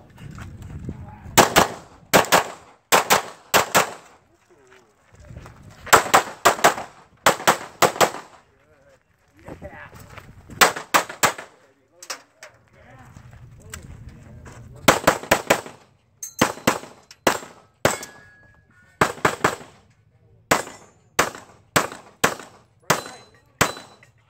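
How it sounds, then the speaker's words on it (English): .45 pistol shots crack loudly and close during a timed shooting match stage, fired in rapid strings of sharp bangs separated by brief pauses, ending in a long, evenly paced burst. "I'm shooting a 45."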